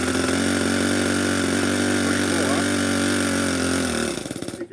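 Small TOYAN L100 see-through-head model engine running steadily close by, a dense high-pitched buzzing drone held at constant speed, then sputtering and cutting out in the final moments as it shuts off.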